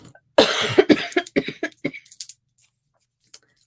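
Several close, loud coughs from a crafter at a card-making desk, bursting out in a rapid irregular cluster, then a few fainter throat sounds and one small cough near the end.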